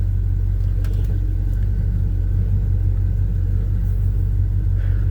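A 1984 Chevy C10 truck engine runs at a steady idle, a loud, continuous low rumble that holds evenly for several seconds with no revving.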